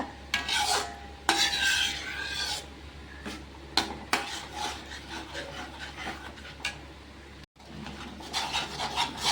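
Ladle scrapes and rubs against a pan while stirring wheat flour halwa, in irregular bursts of rasping strokes with short pauses and a soft sizzle beneath.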